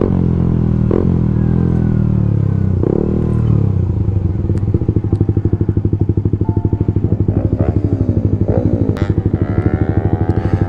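A motorcycle engine idles roughly, then revs hard into a loud, pulsing roar with rapid firing beats, close by and with no talking.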